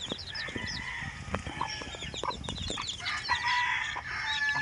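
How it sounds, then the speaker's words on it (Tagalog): Newly hatched chicks peep near and high while a rooster crows and hens cluck around them on a Blacktiger chicken line, a busy, moderately faint barnyard chorus. "Yung sisiw yan."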